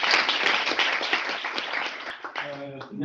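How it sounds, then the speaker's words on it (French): Audience clapping at an evening business event in a hall, honoring the event organiser; dense, steady applause fills the space before thinning out, with voices emerging near the end. "Je vous demande d'applaudir Maxime qui a organisé cette soirée."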